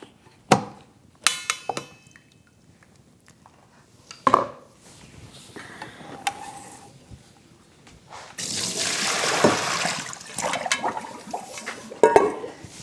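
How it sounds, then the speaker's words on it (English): Warm water poured out of a pot in a kitchen while making yogurt from powdered milk: a few sharp clanks of the pot, then a sustained splashing pour lasting several seconds, close and fairly loud. "I have in this pot, I've been warming it with warm water. So first thing I'm going to do is dump that."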